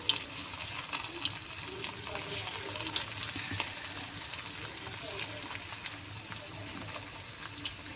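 Food fries in oil in a kadai, giving a continuous crackling sizzle with scattered pops and stirring scrapes, and voices can be heard over it.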